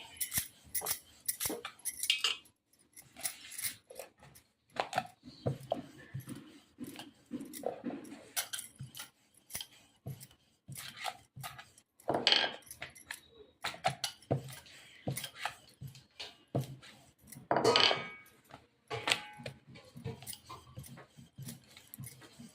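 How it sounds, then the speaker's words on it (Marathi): Puran poli flatbread dough being rolled out by hand, faint irregular taps, knocks and scrapes of rolling pin on board, scattered through a quiet kitchen. "आता ही पुरणपोळी मी लाटत आहे"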